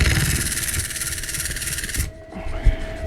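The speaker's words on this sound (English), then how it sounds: "Okay, so now it comes to the sanding." A worn sanding belt, roughly 350 to 400 grit, is held against a wood-turned bowl and gives a loud, close, rasping scrub for about two seconds before cutting off into quieter knocks.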